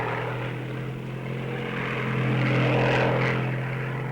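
A Hawker Typhoon fighter with its 24-cylinder Napier Sabre engine drones steadily and loudly, a deep propeller-driven roar that swells slightly as it passes close.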